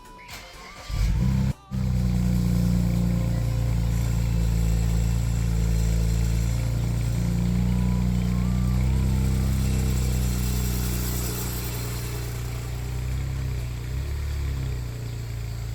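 A single-turbo BMW 335i engine runs loud and steady, with a brief cutout near the start and a faint metallic wastegate rattle under the drone.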